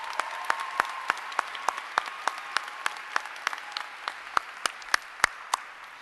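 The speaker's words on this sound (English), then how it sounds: "Please join me in applauding these special guests" At a 2017 nursing school graduation, the audience applauds special guests with an even, rhythmic clapping: sharp, regular claps rise over a softer crowd patter, holding a steady beat from start to finish.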